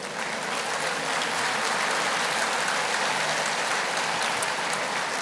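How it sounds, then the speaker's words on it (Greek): A large crowd at a central election campaign rally bursts into continuous, loud applause, a dense wash of clapping that stays steady throughout with no speech over it. "πάμε για το χειροκρότημα."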